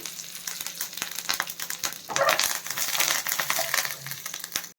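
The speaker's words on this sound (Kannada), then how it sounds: "ಎಲ್ಲ ಫ್ರೈ ಆಗಲಿ" Cumin, Byadgi red chilli and curry leaves crackle and sizzle in hot oil for a tadka over borage leaf chutney, a steady near frying hiss with light stirring scrapes that swell louder midway, no voices.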